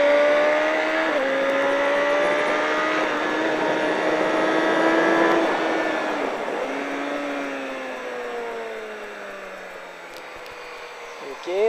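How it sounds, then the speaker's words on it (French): A motorcycle on a race track, its engine note climbing steadily in pitch as it accelerates, then easing and dropping before rising again briefly at the end, close and loud throughout. "on dresse bien la moto et on accélère"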